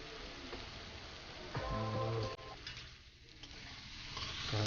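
Chicken frying in a pan with ash gourd, a steady sizzle and crackle running throughout, with a brief louder burst of tonal clatter in the middle and no voices.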